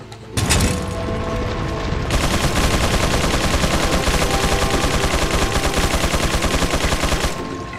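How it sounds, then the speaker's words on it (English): Gatling gun firing in Resident Evil 4: a loud, sustained rapid-fire rattle of dense, rhythmic shots that runs for several seconds after a brief sharp opening burst, then stops abruptly. "And they've got a Gatling gun"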